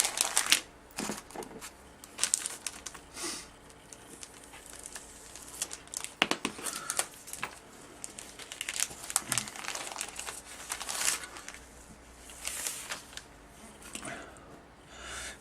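Non-resealable plastic bags holding model kit parts for a Meng Messerschmitt Me 410A-4 bomber are handled and torn open up close, with irregular crinkling, rustling and sharp crackles.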